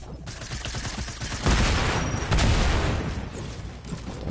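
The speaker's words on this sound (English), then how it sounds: "That was a funny machine gun" Rapid machine gun fire in a console shooter game, a dense burst of shots that swells loudest in the middle and stays loud, mixed with other game noise and no talk.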